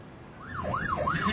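An ambulance siren wails in a rising and falling pattern as an emergency vehicle passes in traffic near Sri Aman, swelling louder over roughly a second with road noise underneath.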